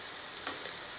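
A ground paste of peanuts, coconut, coriander, ginger and curry leaves hits a hot pan for spring onion amti, giving a soft, steady sizzle with a brief brighter hiss in the middle, close and without speech.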